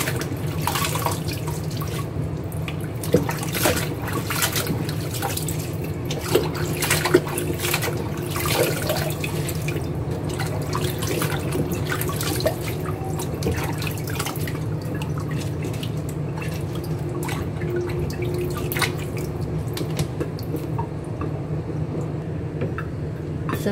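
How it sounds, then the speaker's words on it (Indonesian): Water runs and drips steadily while vegetables are washed in a kitchen, a continuous close splashing and trickling with scattered clatter. "Dan sayurnya dicuci ya teman-teman, dicuci 3 kali ya biar bersih"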